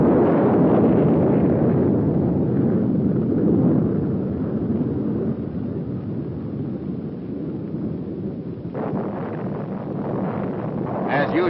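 An Honest John rocket fired during a military test roars as a loud, broad blast that slowly eases into a rumbling wash, with a fresh crackling burst near the end.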